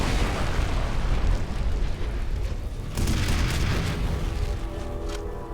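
Rocket blasts in the shooter game F.E.A.R. roar as heavy, continuous explosive rumbles, with a fresh loud burst midway and a long, dense booming tail, close and alone.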